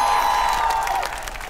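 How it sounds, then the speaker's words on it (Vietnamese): Warm applause and cheering from a studio audience on a Vietnamese comedy show, steady clapping that fades slightly toward the end. "Vỗ tay nồng nhiệt."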